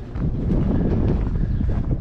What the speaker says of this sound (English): There is a lot of wind today.